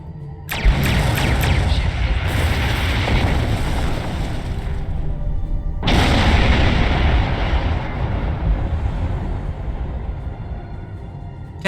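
Starship weapons in Star Trek Online blasting a Borg sphere: two heavy, roaring volleys of explosive fire, each hitting with a sudden loud onset and rumbling on without pause, with no voices.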